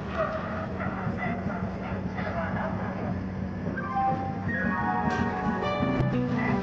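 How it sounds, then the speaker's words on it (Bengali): The Howrah–Puri superfast express pulls out of Howrah station, its steady rolling rumble close and continuous, with horn-like tones and a dog's yips rising briefly near the end. "একদম সঠিক সময়তেই হাওড়া স্টেশন থেকে আমাদের ট্রেনটি রওনা দিল পুরীর"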